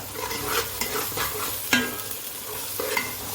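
Chili powder and a pinch of turmeric are stirred through a pan for a Godavari-style fish curry, a steady close sizzle under rhythmic scraping strokes of a spoon, with no voices.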